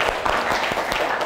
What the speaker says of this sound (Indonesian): Tepuk tangan buat Luffy udah bantu Ibu,